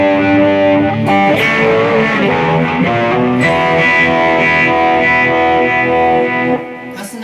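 Electric guitar through a Boss eBand JS-10 with reverb, sustained distorted chords ringing out densely and loudly with a washy tail, played alone for several seconds.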